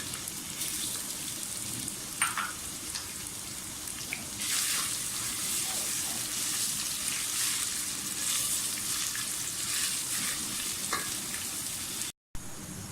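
Onions frying in hot oil for saffron mutton pulao give a steady, close crackling sizzle with occasional stirring scrapes. It runs throughout with no talk and drops out in one brief gap near the end.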